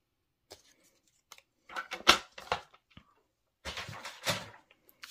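Scissors cutting paper into a banner shape for a greeting card, a few crisp, close snips in separate bursts with quiet gaps between them and no talk.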